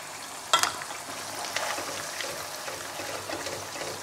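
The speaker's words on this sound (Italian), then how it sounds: "Ecco che la nostra pasta è pronta, manca un minuto e la risottiamo dentro al sugo." Pasta with frozen-seafood sauce tossed and stirred in a frying pan, a steady soft sizzle with scraping and clatter, one sharp clink near the start, with no talk.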